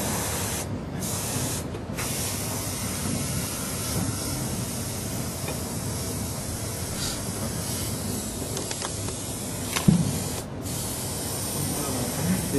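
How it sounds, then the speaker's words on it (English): An old airbrush sprays in a continuous, fairly quiet hiss, broken by a few short pauses and a small knock near the end, with no voices. "this is a very old airbrush from Yong"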